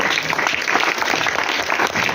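An audience claps steadily and loudly throughout at a school children's literary gathering in a high school, a dense applause of many hands heard close by with no talk over it.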